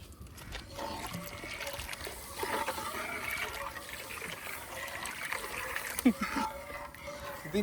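Milk is poured into a pot while paal payasam is made for Vishu, a steady trickling and light splashing that runs on under people talking nearby.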